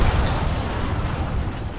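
An explosion in the military video game Arma 3: a loud, dense low rumble that fills the short moment and slowly fades, with no talk over it.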